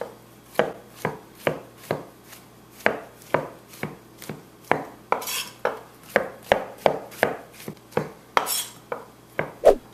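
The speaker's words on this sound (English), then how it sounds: "Mushrooms. Real easy. Just slice them." Steady knife chops slicing mushrooms on a cutting board, about two per second, crisp and close, with no talking.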